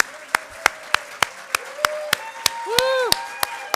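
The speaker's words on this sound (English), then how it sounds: "let's give our speakers another round of applause." Sparse, spaced claps ring out in a room as an audience applauds speakers at a higher-education Drupal summit, while a voice speaks over them.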